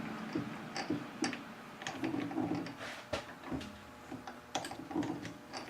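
An unfamiliar ticking comes from a workshop lathe: close, quick mechanical clicks and taps in an uneven rhythm over a low running hum, with one sharper knock partway through.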